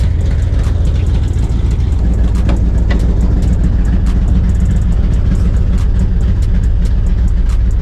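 An old blue truck engine runs steadily with a deep, rough rumble and ticking puffs from exhaust leaks, loud and close throughout with no talk.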